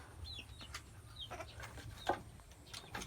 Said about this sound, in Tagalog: ang daming mga manok may manok dito